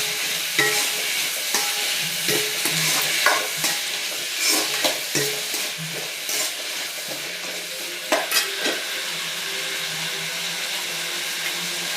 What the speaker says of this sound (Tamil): அதில் போட்டு நல்லா கிண்டி விட்டு